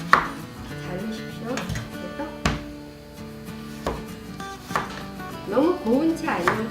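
A knife cuts radish into long strips along the grain on a cutting board, giving a few sharp, spaced chops that knock against the wood, close and clear, with faint clattering between the strokes.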